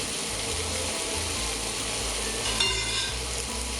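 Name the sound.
shallots frying and being stirred in a pan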